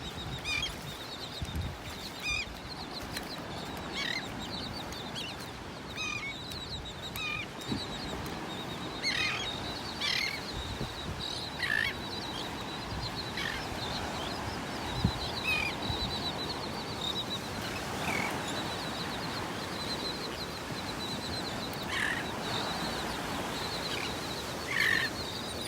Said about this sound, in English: Listen to all those birds.